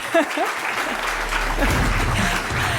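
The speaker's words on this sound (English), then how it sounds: "Big applause, please." Conference audience at a digital policy event applauds steadily and loudly, a dense wash of clapping that swells and holds for several seconds, with a brief voice near the start.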